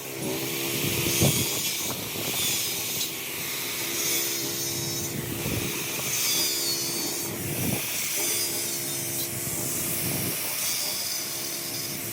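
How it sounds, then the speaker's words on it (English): Continuous harsh grinding of a generator-powered cutoff wheel cutting a metal fence, a hissing, buzzing whine that surges in pulses over a droning motor hum. "use the generator and the cutoff wheel to cut right through it"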